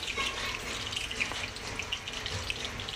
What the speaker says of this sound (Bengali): এই যে সর্ষে ফোড়ন দিয়ে দিলাম।